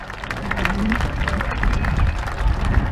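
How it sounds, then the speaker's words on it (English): A crowd at an airshow applauds as an aircraft comes in to land, steady clapping and cheering mixed with a voice talking over it. "Big round of applause there, Jeremy, as he comes into land."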